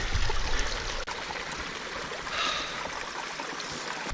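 Clear mountain stream on a Welsh hill route, water flowing and trickling steadily as a broad, continuous rush close by, with no talking.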